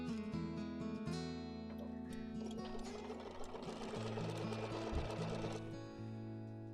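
A sewing machine runs steadily, its motor humming and needle stitching in a fast, even rhythm, close by with no talking.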